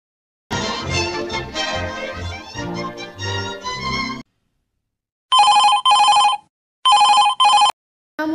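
After a stretch of music, a telephone rings in loud, close electronic bursts, four short pulses split into two pairs with pauses between, then a fifth starting at the end.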